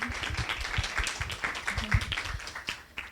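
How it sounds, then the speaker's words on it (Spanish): Scattered applause from a small audience at an environmental education event, honoring the speakers, with fairly close, uneven clapping that stays moderate throughout. "un aplauso les pido para nuestros expositores."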